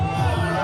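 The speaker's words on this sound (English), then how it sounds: "applaudissements pour Charlie Rolls" Crowd at a climbing competition cheering and applauding for climber Charlie Rolls, a dense steady roar with whoops filling the whole moment.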